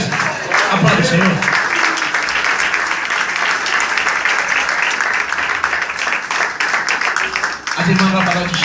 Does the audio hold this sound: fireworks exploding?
no